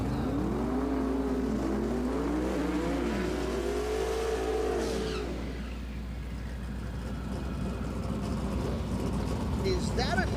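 A Mob 275 drag race car revs and accelerates at a drag strip, its engine note sweeping up and down before settling into a steady roar, with a commentator talking over it.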